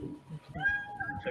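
A cat meowing nearby, a short drawn-out rising and falling meow amid soft background talk and murmuring voices.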